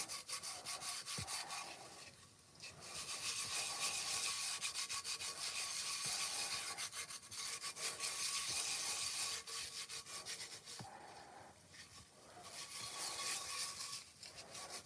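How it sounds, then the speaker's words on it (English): Ceramic pots being sanded by hand, a steady dry rasping rub that runs in long continuous strokes with brief pauses, close and fairly loud with no talking. "I don't really want to sand these that hard because I don't want to get rid of the texture."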